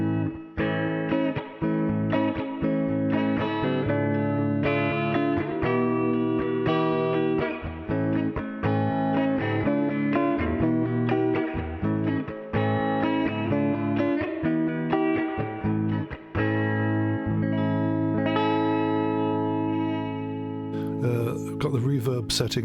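A Harley Benton SC550 Tobacco Flame LP-style electric guitar on its middle pickup setting, played through a vintage Musicman 110 RD Fifty amp with reverb, rings out in sustained chords and notes, close and continuous, ending in a short noisy scrape.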